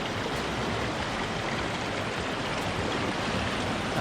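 A Scottish river rushes steadily over rocks in a constant, close broadband wash of flowing water, alone with no voices.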